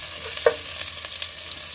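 Finely chopped green chili hitting cumin seeds in hot oil for sabudana khichdi, a steady close hiss of sizzling with faint stirring scrapes, no talk.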